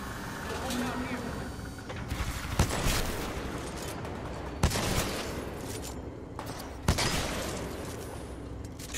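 The player's weapon fires in the shooter Titanfall 2: a few sharp, loud shots spaced about two seconds apart over a busy battle background, with speech-like game sounds in the mix.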